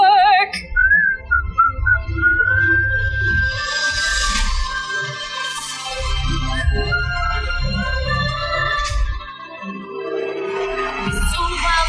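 A melodic tune of a song from Disney's Snow White is whistled clearly and steadily for the full stretch, carried over a low, pulsing musical accompaniment with no talking.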